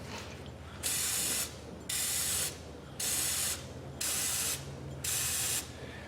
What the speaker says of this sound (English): When we have the fluid film out, we will spray the face of the hub